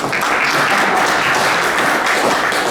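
Steady, dense applause from a seated audience at a university idea-challenge kickoff event, loud and continuous throughout with no talk over it.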